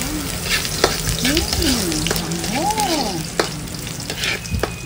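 Garlic sizzles steadily in a hot pan while almondigas and fried boneless milkfish are cooked. A continuous frying hiss runs throughout, with faint tonal clinks and scrapes and a few sharp utensil taps.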